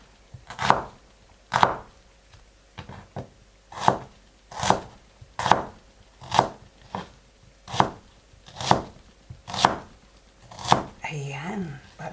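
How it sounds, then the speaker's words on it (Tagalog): Onion being sliced with a knife on a cutting board in a home kitchen, about a dozen sharp, evenly spaced cuts roughly one per second, close and clear, with a brief voice at the end. "Hiwa po tayong sibuyas"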